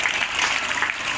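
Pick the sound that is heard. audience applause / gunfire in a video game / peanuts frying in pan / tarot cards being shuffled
audience applause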